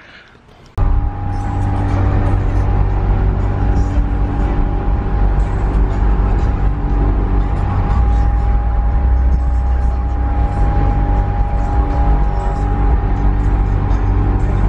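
Steady engine drone from a VW MK7 Golf R fitted with a big turbo while driving, starting after a brief quiet moment and holding a constant, loud, humming tone with strong low rumble throughout.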